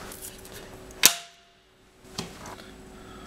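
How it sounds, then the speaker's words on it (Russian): A factory-defective A3712 automatic circuit breaker trips during an electromagnetic release test, giving one sharp, loud snap and a softer click about a second later, with no talk. "Теперь включаем наш проверяемый автомат и начинаем проверять электромагнитный"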